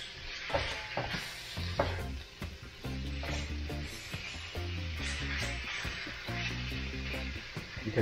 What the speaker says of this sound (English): let me just start browning this.